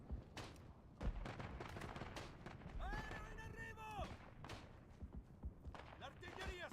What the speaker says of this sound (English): Then I'm going to have a Creeping Barrage and Bomber Squadron coming in soon.